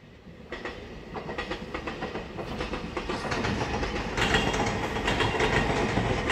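A twelve-car EMU3000 express train, service 407, pulls out of Taitung station onto the Hualien–Taitung line, with rhythmic clickety-clack of wheels over rail joints growing steadily louder and denser.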